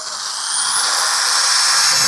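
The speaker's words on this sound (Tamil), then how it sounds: "இது இங்கே ட்ரில் மிஷின் ஆன் பண்ணுறீங்க." A drilling machine mounted on a drill stand switches on and spins up into a loud, steady, high whine that holds constant and close.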